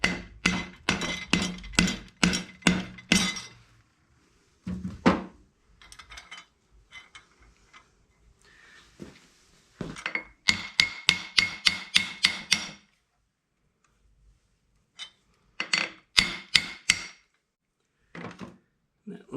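A mallet drives a dowel pin into a 1940 Chevy upgrade part, sharp close metallic blows coming in quick rhythmic bursts of several strikes, separated by pauses of quiet.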